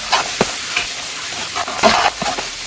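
Mint and coriander leaves sautéing in a pan for Tamil-style dum mutton biryani give a soft, steady sizzle with a few light stirring scrapes and clinks, close and alone.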